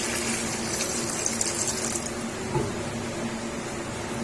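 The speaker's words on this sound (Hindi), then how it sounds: "अब इसके अंदर हम पानी ऐड कर देंगे 1/2 लीटर।" Water, half a litre, pours steadily into a cooking pot of mutton karahi with a gushing, splashing rush, loud and close, easing somewhat after the first couple of seconds.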